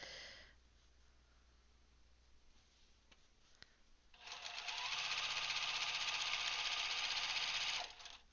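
A sewing machine stitching a quilt runs in a quick, even mechanical whir for about four seconds after a quiet pause with faint clicks, close and clear with no voices.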